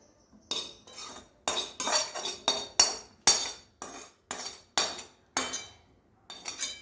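Spoon clinking and scraping against a metal pot in sharp rhythmic bursts, roughly a dozen strokes with brief pauses, while cooked vegetables are mixed into rice for a one-kilo batch of veg pulao; close and clear, no voices.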